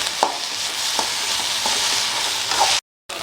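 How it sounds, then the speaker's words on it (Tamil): Tomatoes and okra sautéing in oil give a steady sizzle, broken by a few spaced stirring scrapes, and then the sound cuts out abruptly near the end. "தக்காளி ஆட் பண்ணிவிட்டு ஒரு 2 மினிட்ஸ் வதக்கணும்"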